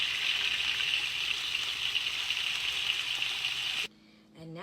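Burgers sizzle in a pan on their second side, giving a dense, constant frying hiss for several seconds before it cuts off abruptly, followed by a short quieter stretch.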